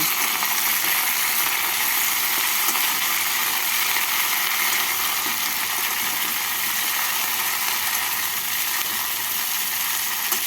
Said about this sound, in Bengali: ঝিঙে পটল আর বটবটি দিয়ে সবজিগুলোকে হালকা করে ভেজে নেব